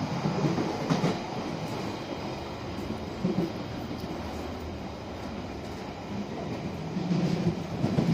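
A London Underground Piccadilly line tube train carriage runs overground in North London, a steady rumbling roll of wheels and rails heard from inside, with no talk.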